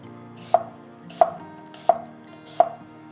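A knife chops through fruit on a cutting board, slicing it thinly: four crisp, evenly spaced cuts, close and clear, with no other sound.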